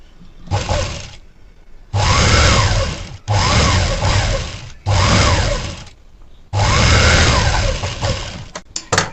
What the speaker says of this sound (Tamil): இப்போ நெக்ஸ்ட் வந்து அப்படியே மடித்து ஒரு இன்ச்சில் தைச்சிக்கணும்